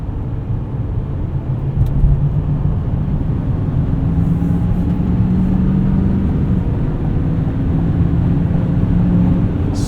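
A 2025 GMC Sierra 2500HD Denali Ultimate diesel pickup cruises along, its low engine drone steady beneath road and wind rumble heard from inside the cab, with no talking.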